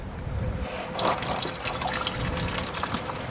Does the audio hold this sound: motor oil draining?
yes